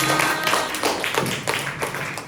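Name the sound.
classroom applause for group 5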